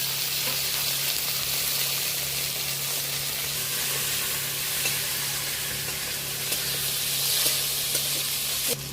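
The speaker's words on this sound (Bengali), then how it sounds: "ফোড়নের সাথে পেঁয়াজ আর টমেটো বেশ ভালো করে নেড়ে চেড়ে নিলাম" Chopped onion and tomato fry with a black cumin tempering, giving a steady, even sizzling hiss with faint crackles and occasional stirring ticks, close and continuous throughout.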